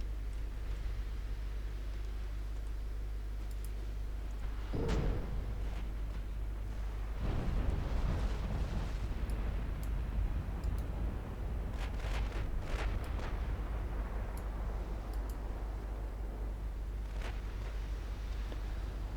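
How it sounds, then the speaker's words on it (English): Torpedo hits strike enemy ships in a naval warfare game set in a 1947 Norwegian campaign, giving two muffled, distant booms a few seconds apart over a steady windy wash of sea and engine noise. "We're getting torpedo hits in the middle of the enemy formation"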